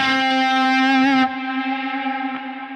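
Electric guitar through a Quad Cortex effects unit, its effect mix swept by an expression pedal: a sustained distorted, echoing chord that drops in brightness and level partway through, then rings on quieter.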